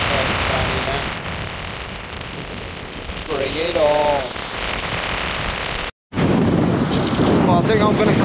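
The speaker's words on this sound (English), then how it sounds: "That rain's getting a little bit more consistent." Steady rain shower hissing on a shingle beach at Chesil Beach during shore fishing, a constant broadband wash with wind buffeting the microphone, briefly cut off before resuming; a voice talks over it.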